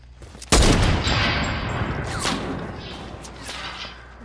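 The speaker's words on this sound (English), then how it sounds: "Let's push them with our hunting rifles." Hunting rifles firing in a shooter video game: a loud sharp gunshot burst followed by several more shots and echoing reports over about four seconds, close and dense.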